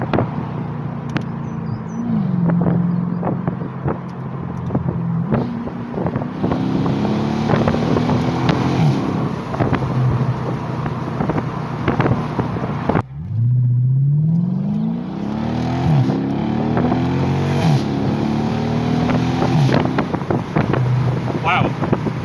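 A Mercedes SLK55 AMG (R172) with an exhaust valve actuator bypass accelerates hard, its loud engine note climbing and dropping through gear changes over steady wind rush, with a brief lift near the middle before it pulls again.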